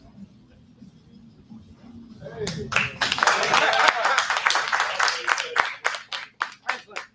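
Comedy showcase audience applauding after a card trick, clapping swelling from scattered hands into steady applause over a couple of seconds, then thinning into a few final claps.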